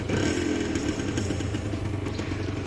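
A rebuilt Yamaha Serpico 150 SE motorcycle engine idles in a Phuket repair shop, a close, steady rattling putter with slight clatter throughout and no talking.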